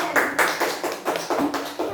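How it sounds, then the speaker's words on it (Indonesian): Sixth-grade classmates give a student a quick round of applause, a brisk run of sharp, close claps in an irregular rhythm lasting about two seconds. "Beri tepuk tangan untuk Husen"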